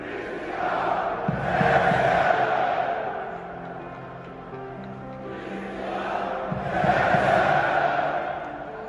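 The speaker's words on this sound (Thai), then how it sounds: "กองเชียร์ทั้งสองชาติครับ ส่งเสียงเรียกชื่อจอมทัพเดนมาร์กไม่ขาดสาย" Football fans of Denmark and Finland in a Euro 2020 stadium chant the Danish playmaker Christian Eriksen's name, a massive echoing crowd roar rising and falling in two long rhythmic swells.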